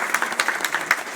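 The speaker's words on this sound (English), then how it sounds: "Oh, clap for him." Scattered applause from a school award ceremony audience, light and uneven clapping that rises in small bursts over a short span.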